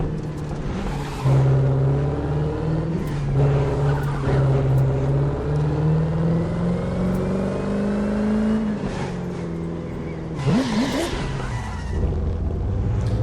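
A car engine drones steadily with rising and falling revs in the racing game The Crew 2, a game vehicle hum that shifts pitch around the middle, loud and continuous throughout.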